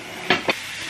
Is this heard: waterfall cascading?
no